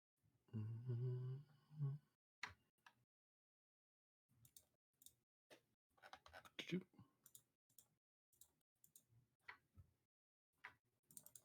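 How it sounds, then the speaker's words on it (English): In a starship audio drama, a voice speaks briefly before a console keyboard clicks in quick, irregular bursts of sharp taps, close and fairly quiet, with short pauses between flurries. "the con officer rapidly taps and is madly typing away at their console"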